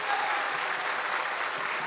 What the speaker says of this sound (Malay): Bagi tepukan gemuruh.